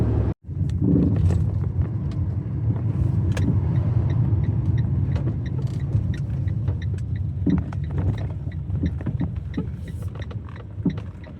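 A steady low rumble of a car on the road, with occasional creaks and clicks from the cabin, continuous throughout with no talking.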